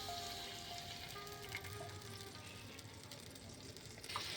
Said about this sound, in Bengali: যতক্ষণ এটা থেকে তেল ছাড়ছে ততক্ষণ এটাকে আমি এখানে ভাজতে থাকবো